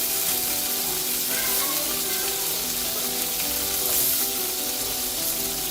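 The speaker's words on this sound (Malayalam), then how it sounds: "ഇതിലോട്ട് നമ്മൾ നേരത്തെ അരിഞ്ഞു വെച്ച സവാള, ഇഞ്ചി, പച്ചമുളക് എന്നിവ ചേർത്ത് നന്നായി വഴറ്റിയെടുക്കാം." Onion, ginger and green chili sauté in hot coconut oil, a loud, close and unbroken hiss of sizzling that holds steady from start to finish.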